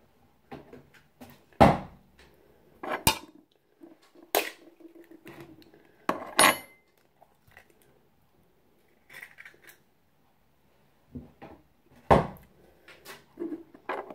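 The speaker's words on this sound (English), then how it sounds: "I'm just going to crack all of these eggs." Three medium eggs cracked one after another into a bowl for chocolate orange cupcake batter, giving sharp separate taps and clinks of shell on the rim at irregular intervals, close and fairly loud, with no talking.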